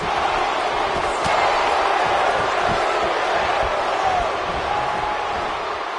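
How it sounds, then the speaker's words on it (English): An arena crowd in the wrestling video game WWE 2K19 roars in a loud, continuous wash of cheering with faint rhythmic thumps underneath, at a WrestleMania 23 pay-per-view event. "I don't remember the last time I heard a more passionate crowd than the one we have here tonight"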